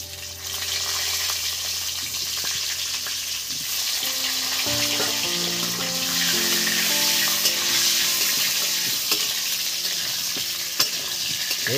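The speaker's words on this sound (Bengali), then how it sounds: "এই তেলেরই মধ্যে আলুগুলো ভেজে নেবো" Cut potatoes frying in oil, a loud, steady sizzle that runs unbroken for the whole stretch, with a faint low hum beneath it.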